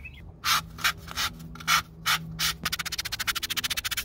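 Sandpaper rubs a Jeep Grand Cherokee WJ front control arm bushing smooth, first with a few slow separate strokes, then with a fast steady run of short scrubbing passes, close and clear with no talk.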